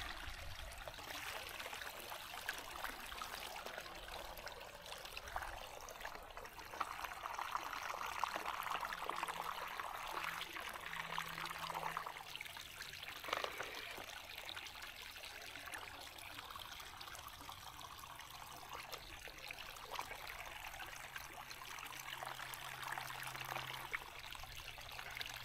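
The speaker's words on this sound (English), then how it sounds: "And then there's a little bit flowing here over a rock. So I'll get some water from here." A small mountain stream in the Lake District trickles over a rock near a winter camp, a soft continuous burble and dribble heard up close and fairly quiet, with no talk.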